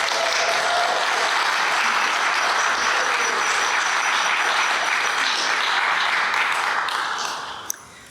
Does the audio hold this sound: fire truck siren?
no